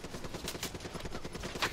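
Rapid automatic gunfire in Call of Duty: Black Ops III sounds as a fast, even rattle of shots, fairly quiet and brief.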